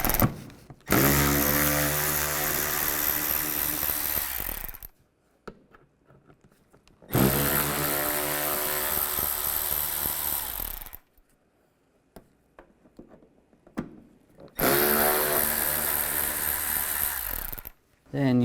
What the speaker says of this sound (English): Now from the side, we're going to take off these 3 screws.